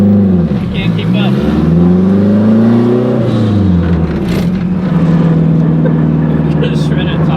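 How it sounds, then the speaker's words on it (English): A 700hp big-turbo Honda Civic EG engine revs hard with rising and falling pitch as it shreds a tire, loud and close, with people talking over it. "Just shred a tire before we get back to the job."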